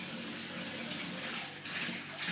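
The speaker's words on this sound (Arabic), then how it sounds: "وحطيت عليها ميه بقليل عشان تبقى ريحتها حلوه." Water is poured over freshly washed curtains at home, making a steady, close gushing splash that runs unbroken for the whole moment.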